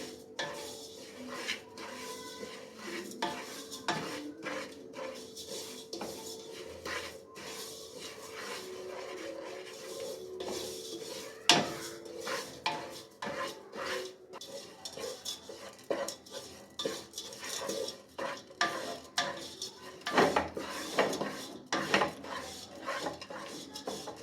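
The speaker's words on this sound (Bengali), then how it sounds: "এজন্য বারবার নাড়তে হবে যে পর্যন্ত চিনি সুজি তেল না বের হয়" Semolina halwa with sugar, made without oil, stirred steadily in a pan for the full stretch, with a continuous run of spoon scraping and clattering against the metal. It sounds close, and no one speaks.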